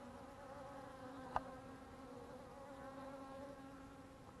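Honey bees drinking water at a barrel on a mild midwinter day in a hive yard make a faint, steady buzz, with one brief click partway through.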